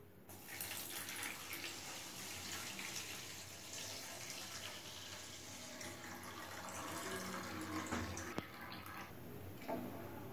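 Boiled milk, reduced from two to one and a half litres, pours steadily into a pan of fried vermicelli, a continuous soft gushing and splashing stream with a small clink near the end.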